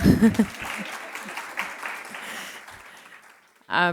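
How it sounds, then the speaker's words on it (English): Applause from an audience at a sickle cell disease community talk, sparse and moderate in level, with voices over it, tapering off before a short loud burst at the end. "And so Dr. Kirby, yes, round of applause"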